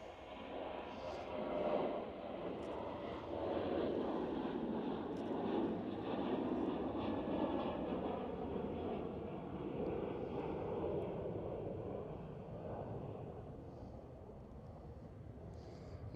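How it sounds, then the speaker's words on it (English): Transavia Boeing 737 airliner flying past at Schiphol, Amsterdam, a faint distant jet rumble that swells and fades gently as it passes, with wind in the background. "That's Transavia 737."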